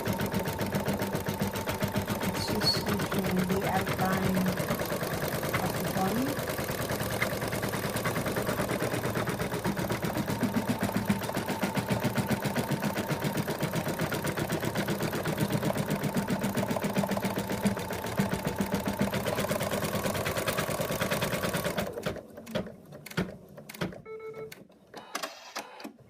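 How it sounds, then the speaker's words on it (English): An embroidery machine works an in-the-hoop moose body outline with a long, steady rapid stitching whir, continuous and close, then stopping near the end with a few scattered clicks and knocks. "It's just stitching the outline of the body."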